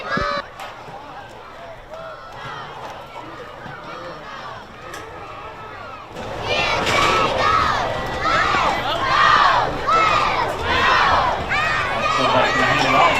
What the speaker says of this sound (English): now the cheerleaders are going to give you guys a cheer